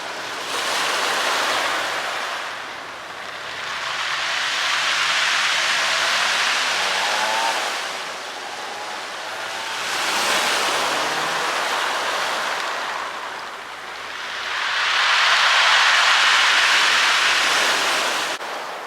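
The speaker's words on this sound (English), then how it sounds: "I do love that noise as the waves like flow back from the pebbles." Waves break and wash back over a pebble beach at Newlyn in Cornwall, a loud surging roar swelling and receding in about four rolling cycles, with the hiss of water draining through stones and some wind, no talking.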